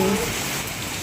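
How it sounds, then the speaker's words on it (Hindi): Heavy rain pours down in a dense, continuous, loud hiss that fills the whole moment, with a faint voice-like murmur at the very start. "बारिश हो गई बहुत तेज।"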